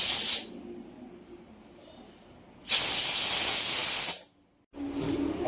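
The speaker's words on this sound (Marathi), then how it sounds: "मी आता 2 शिट्ट्या घेते बघा लावून" A pressure cooker cooking mutton for biryani lets off steam, producing two loud, close bursts of sharp hissing separated by quieter stretches, followed by a softer hiss at the end.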